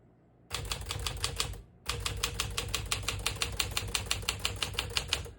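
Keys clack rapidly on a 1957 Smith-Corona Silent-Super portable typewriter, a close, steady run of crisp strikes that pauses briefly and then resumes in an even rhythm.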